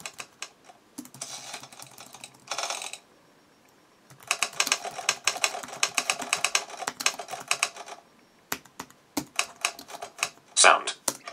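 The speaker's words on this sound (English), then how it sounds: "Typewriter." Typewriter sound effects from the Hanx Writer iPad app, with bursts of rapid clacking keystrokes separated by pauses, then scattered single key strikes and a bell-like chime near the end, moderately close.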